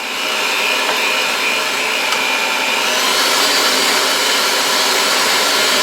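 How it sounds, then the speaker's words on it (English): Electric mixer beating chocolate cake batter at a higher speed, a loud steady whirring drone that holds without a break. "So I increased my mixer speed and I just want to get a little bit of air into this."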